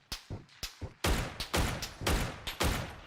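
Rapid bursts of gunfire in the PUBG battle royale shooter, a quick series of sharp cracks at an uneven rhythm, some closer and louder than others, with no talking over them.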